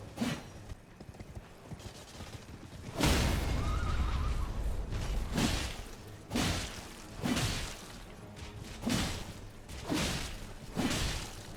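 A horse in the video game Elden Ring gallops with regular, heavy clip-clopping hoofbeats roughly once a second, and a brief whinny rises faintly early in the run amid whooshing motion.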